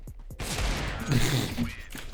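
Gunfire in the video game CS:GO, a burst of shots starting after a brief pause and running as a dense, sustained rattle with no speech over it.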